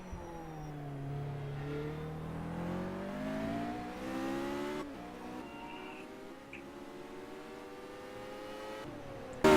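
Caterham race car engines in the Simraceway racing game rise and fall through the gears, a layered whine of revving motors sweeping upward and downward, one passing close before others follow, with a sharp burst at the very end.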